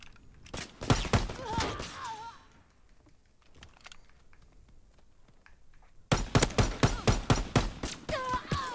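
Call of Duty: WWII gunfire comes as sharp, loud, rapid cracks in a tight burst early on. A quieter stretch follows before another volley of close shots near the end.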